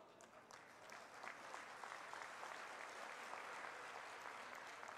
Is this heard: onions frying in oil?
no